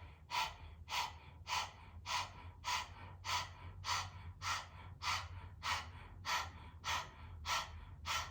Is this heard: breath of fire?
yes